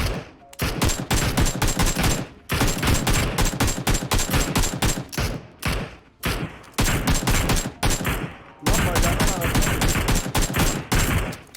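Loud, dense automatic gunfire in PUBG Mobile, long sustained bursts broken by brief pauses, near and dominant across the whole span.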